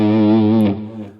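Heavily saturated electric guitar lead tone from a Fractal FM3 preset, with amp and drive blocks pushed to maximum gain; a single sustained harmonically rich note that fades after about a second.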